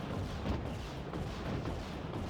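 Grenade launchers fire in the real-time strategy game Act of Aggression, a dense, continuous rumble of overlapping booms and battle noise, loud and unbroken, with no talking.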